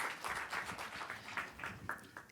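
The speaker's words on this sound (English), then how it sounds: "Please give him a round of applause." A fairly faint audience applause follows a talk at a startup pitch event, with scattered hands clapping briefly and unevenly before tapering off.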